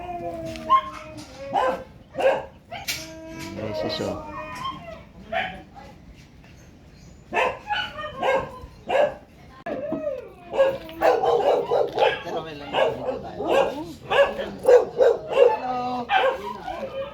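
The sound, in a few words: Siberian husky barking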